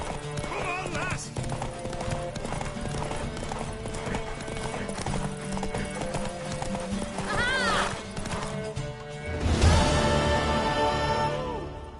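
Fast clip-clopping hooves of a mare gallop steadily in The Witcher 3, with a horse whinnying partway through and voices speaking over the busy, music-backed scene.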